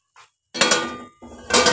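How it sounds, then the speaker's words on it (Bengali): Metal lid set down onto a cooking pan after the gas is turned off while making egg korma, a faint tap, then two bright metallic clanks and rattles close by. "আর গ্যাস অফ করে আমি ঢাকনা বন্ধ করে রেখে দিলাম।"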